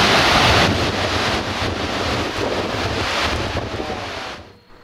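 Rushing water from a waterfall beside the Flåm railway in Norway, heard at a train stop in May: a steady, loud broadband roar with wind buffeting the microphone, continuous throughout before fading at the end.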